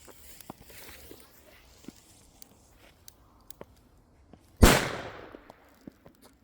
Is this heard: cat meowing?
no